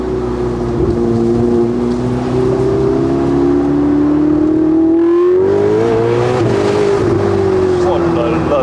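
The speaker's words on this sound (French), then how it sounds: "on n'oublie pas quand on accélère qu'il y a vraiment les turbos" A Ferrari 488 Spider's turbocharged engine pulls hard under acceleration, a loud, steady rising drone that climbs in pitch, dips briefly around a shift, then surges again, heard from inside the car.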